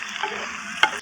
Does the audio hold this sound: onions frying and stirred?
yes